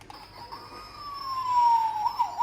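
A toy fire helicopter's small electronic siren wails alone, its tone sliding up and down in a thin, tinny cycle, fairly quiet against a faint hum.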